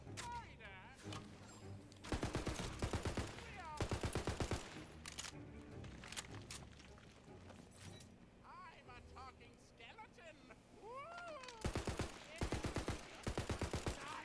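Rapid submachine gun fire from Wonderlands, in several loud bursts separated by quieter stretches of game sounds and talking.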